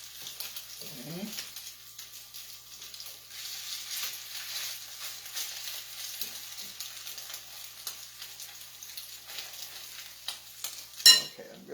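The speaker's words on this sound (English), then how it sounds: "I'm just frying them. I got it on medium heat." Salmon patties frying in a pan over medium heat give a steady, soft sizzle that runs throughout, with a brief louder clatter near the end.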